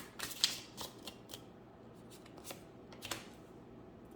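Tarot cards get shuffled by hand in several quick riffling bursts, soft and close, with short pauses between them and no talking.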